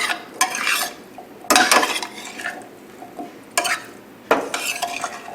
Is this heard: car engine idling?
no